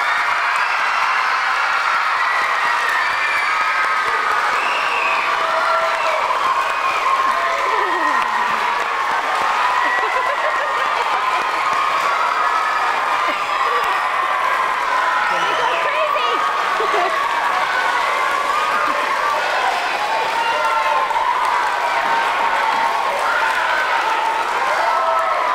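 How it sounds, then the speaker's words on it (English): Big round of applause for veterans at a school Memorial Day ceremony, long sustained clapping and crowd noise from a large audience, steady and loud throughout. "a very big round of applause for our veterans today"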